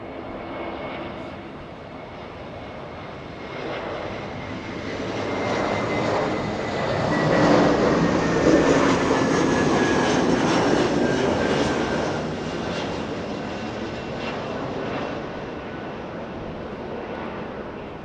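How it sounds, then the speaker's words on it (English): A Delta Airbus A321 arriving at Los Angeles International Airport roars past, its engine noise rising to a broad peak mid-pass and then slowly fading as the jet moves away. "Delta 2089 flying in from Minneapolis"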